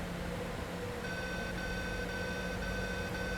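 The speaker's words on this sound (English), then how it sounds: "it's going to start beeping at me until I've got the gear down" In the airliner cockpit of Microsoft Flight Simulator 2024, a steady electronic landing gear warning tone sounds over a constant cockpit hum and keeps going without a break.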